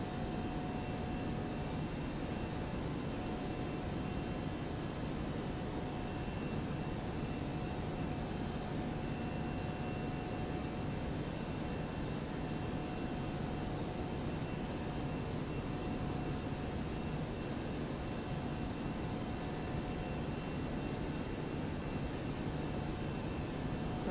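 Steady, unbroken jet engine roar from a simulated Toliss Airbus A321 in cruise climb in X-Plane 11, a broad airy rush with a faint steady tone and no voices.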